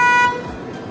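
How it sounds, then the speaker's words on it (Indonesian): A DFSK Mini EV prototype electric car sounds its horn from the key fob's panic button: one loud, close, steady honk lasting about a quarter second, then fading into quiet room tone. "Kalau kalian pencet ini, klakson akan menyala dan lampu sein pun ikut menyala."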